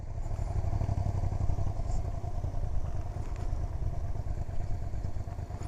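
A used motorcycle idles steadily nearby with a low, even engine rumble and slight clatter, holding constant throughout with no talk over it.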